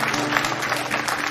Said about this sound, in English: One claps, everybody clap.